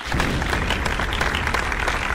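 Dense crowd applause, a steady wash of many hands clapping at close range, loud and continuous with no pauses, no voices over it.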